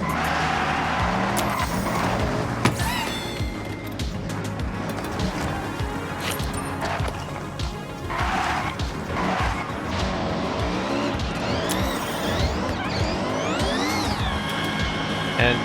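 Light Honda Beat kei car skidding in the Forza Horizon racing game, repeated tire squeals and sliding screeches over a constant revving engine, loud and close throughout.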